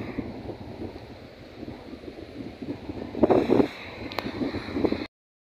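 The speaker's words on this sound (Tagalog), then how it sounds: "Hanggang ngayon binabayo pa rin po ito ng hangin." Gusty wind from the aftermath of Typhoon Paeng buffets the microphone with rumbling bursts, rising into stronger blasts near the end before cutting out abruptly.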